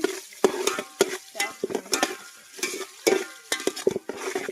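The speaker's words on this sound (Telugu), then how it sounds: "పులావ్ కర్రీ కూడా తిప్పేసుకున్నామండి" A spoon clatters and scrapes as chicken pulao curry is stirred in a pot, with irregular knocks against the metal over a low sizzle, close and fairly loud.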